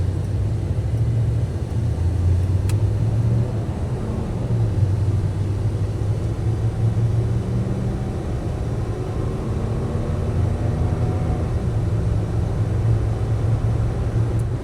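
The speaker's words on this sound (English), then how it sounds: "Driving the truck pretty hard" A 1988 Chevrolet Silverado K1500 pickup with a 5.7 engine and about 40,000 miles is driven hard. A loud, steady engine and road rumble runs throughout, with a tone that climbs briefly midway. No one speaks.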